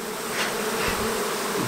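Honey bees buzzing around an open beehive during a honey flow, a close, dense and steady hum with no voices.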